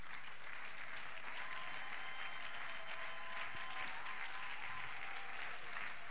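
A church congregation applauds in praise of Jesus Christ, a steady roar of many hands clapping throughout, filling the hall with a dense wash of sound.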